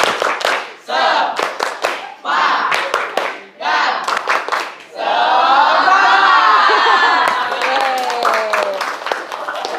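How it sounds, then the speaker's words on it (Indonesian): A school class in an Indonesian lesson does a rhythmic spirit clap, loud and close, in bursts of fast patterned claps with pauses, then shouting and cheering voices while the clapping continues. "Tepuk semangat."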